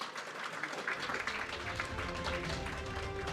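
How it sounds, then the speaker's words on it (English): An audience at a panel discussion applauds a participant, a short burst of dense clapping that swells and then holds steady. "So we'd like to have a round of applause for her."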